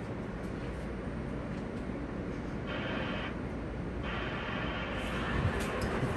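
Steady rumble of an R160 Manhattan-bound N local subway train in motion, a continuous low roar with intermittent hissing bursts and faint high squeals, moderately quiet and without talking.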